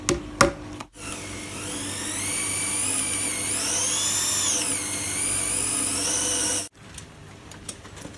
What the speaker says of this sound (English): The holes have to be drilled exactly in the right position